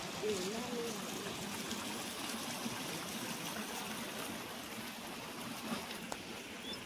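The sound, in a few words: water gurgling in a stream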